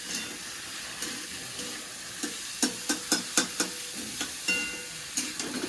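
Sliced potatoes frying in a pan, a steady soft sizzle broken by a run of sharp crackles and stirring scrapes, fairly faint and with no talking.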